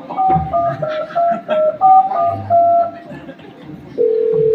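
Touch-tone phone keypad beeps during a staged gaulan folk performance by a village troupe in Chiplun: a quick run of short paired-tone presses, ending in a longer steady tone, with crowd noise and voices beneath.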